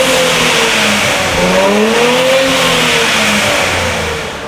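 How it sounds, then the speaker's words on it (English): A Nissan Z with a 400-horsepower twin-turbo V6 revs loudly and close up, its engine note rising and falling in steady sweeps over several seconds, with no talking. "the Z comes equipped with a V6 twin turbo engine with 400 horsepower"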